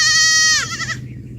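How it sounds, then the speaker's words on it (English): A goat gives a single loud, close bleat, a wavering nasal cry that fades out after about a second over quiet background. "Little goat, fierce and white, thinks his rope is much too tight."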